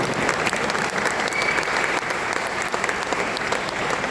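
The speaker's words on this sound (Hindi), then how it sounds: "आसमान तक की तालियां दें उस शहीद के लिए" A large audience at a Hindi poetry gathering applauds loudly and continuously, dense clapping filling the space without pause.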